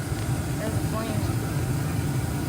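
Carrier furnace runs with its panel on, giving a steady, loud, close-up low hum and whoosh of airflow that stays constant throughout.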